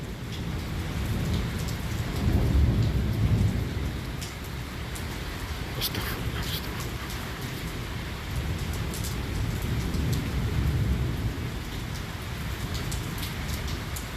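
Heavy rain in a thunderstorm in Islamabad with hail: a dense, continuous roar of rain on surfaces with low rumbling swells of thunder throughout, plus scattered sharp impacts that could be hailstones.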